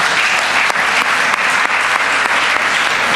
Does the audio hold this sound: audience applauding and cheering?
yes